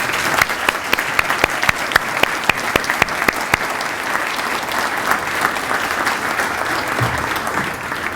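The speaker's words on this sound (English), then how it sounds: "Let's show them our appreciation with a round of applause." A school-district awards evening audience gives a loud, sustained round of applause for a bank sponsor, dense clapping filling the room evenly throughout with a few sharper individual claps near the start.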